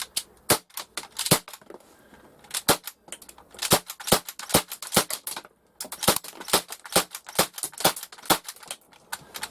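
Rapid bursts of shots from an Umarex H&K MP5K CO2-powered 6mm airsoft gun fired outdoors toward a shed, sharp cracks in quick runs with a short pause midway, emptying a magazine of roughly 27 rounds.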